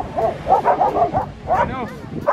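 Several dogs on a beach barking and yipping in quick, agitated bursts while squabbling with a sea lion, close and loud, with whimpering yelps mixed in.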